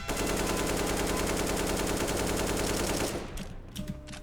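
An AK rifle fires in a video game, a loud, sustained rapid burst of automatic gunfire that cuts off near the end, leaving brief quieter clicks and game sounds.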